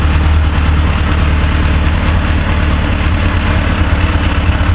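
A Yamaha FJ 1200 motorcycle engine idles steadily after starting, a loud, even low rumble running throughout with no talk.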